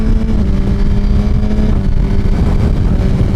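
A Kawasaki 1000cc liter sport bike engine holding sixth gear gives a steady, buzzy drone with a constant hum and no change in pitch, close and loud the whole time, with no voices.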